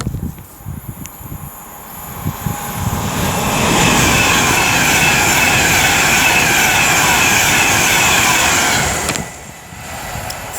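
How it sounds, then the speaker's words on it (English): An Alstom Pendolino electric train passes southbound at Lichfield Trent Valley, a broad rising rush of wheels and traction noise that swells, holds steady for several seconds, then fades abruptly, with no voices. "Another Pendolino going south."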